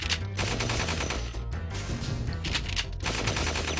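Rapid bursts of gunfire from a commando enemy in the video game Spyro, crackling steadily over constant game music for several seconds.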